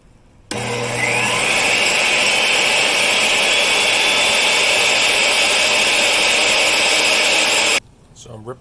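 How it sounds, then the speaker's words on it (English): A table saw starts up and rips a long piece of 3/4 inch plywood in a garage workshop, a loud steady whine and cutting roar for about seven seconds before abruptly shutting off. "see if the table saw can actually rip it, because this is a fairly long piece"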